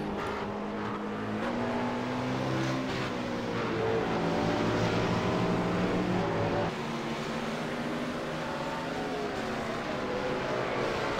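A race car on fresh tyres in a sim racing game on the Spa-Francorchamps circuit, its engine droning loud and steady with rising and falling pitch through gear changes, alone without talk.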